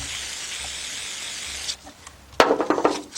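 Carburetor cleaner hisses steadily from an aerosol can for a couple of seconds, then stops; after a short pause a rag wipes back and forth in quick, scratchy rubbing strokes, close to the microphone.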